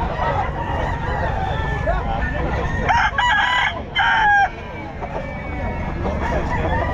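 A 14-month-old Tornado Hatch gamefowl rooster crows at the Bocaue pet market, two loud close crows in succession over busy crowd murmur and market background noise.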